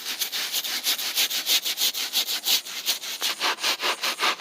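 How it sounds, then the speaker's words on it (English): Rhythmic scrubbing of a stain soaked in homemade cleaning solution on carpet or upholstery, with steady back-and-forth brush strokes repeating about four times a second, close and fairly loud, with no talking. "We're gonna give it a little scrubbing."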